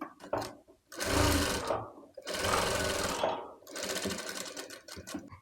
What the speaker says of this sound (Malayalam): നമുക്ക് ബാക്ക് പോർഷൻ്റെ ആം ഹോളിൻ്റെ ഭാഗം ഇതുപോലെ കറക്റ്റ് ചെയ്ത് വെച്ച് കൊടുത്തിട്ട് നമുക്ക് സ്റ്റിച്ച് ചെയ്തെടുക്കാം കേട്ടോ